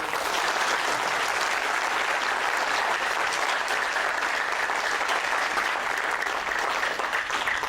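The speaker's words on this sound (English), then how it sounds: "Can you clap even louder and then make some noise?" Sustained applause and clapping from a large audience at a creative talk on caricature and education, dense and steady throughout with no speech over it.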